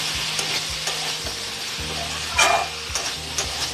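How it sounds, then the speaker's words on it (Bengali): Vegetables mixed with spices fry in a pan with a loud, continuous sizzle. Soft rhythmic scraping sounds every half second or so, and one brighter hiss flares midway. Nothing else intrudes. "ভালো করে মশলার সঙ্গে মিশিয়ে নিয়েছি সবজিগুলো"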